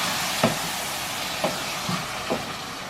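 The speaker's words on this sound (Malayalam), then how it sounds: "എല്ലാം കൂട്ടിയിട്ട് നല്ലതുപോലെ ഒന്ന് ഇളക്കി കൊടുക്കണം" A soya mixture is stirred in a frying pan over steady sizzling, with three distinct scraping strokes of the spoon spaced about a second apart.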